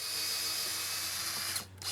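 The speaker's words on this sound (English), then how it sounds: "Next, Rick drills clearance holes through them" A power drill bores clearance holes through 1x4 wood boards while a bench is built around a tree, giving a loud, steady whine that briefly dips out near the end before resuming.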